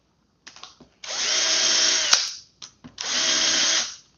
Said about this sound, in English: I don't drill that very deep